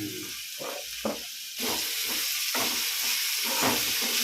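Masala sizzling and hissing steadily as it is sautéed in a pan for a prawn and drumstick thokku. A loud, continuous frying hiss swells after a brief rougher start, with no voices.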